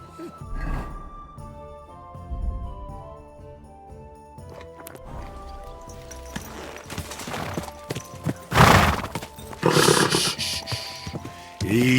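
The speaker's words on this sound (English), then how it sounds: "Easy, good horse." A horse in the medieval video game Kingdom Come: Deliverance 2 snorts and whinnies while hooves clop in uneven bursts, with music underneath and louder rustling, stamping movement building toward the end.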